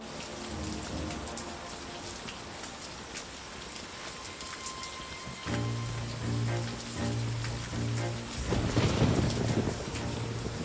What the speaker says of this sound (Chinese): 雨夜出访，这么着急要去哪？ 风大雨急